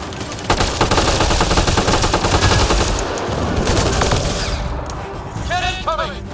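Mass Effect Andromeda video game combat: dense, continuous automatic gunfire and impacts fill the scene loudly, with a voice talking over the shooting and a brief electronic warble near the end.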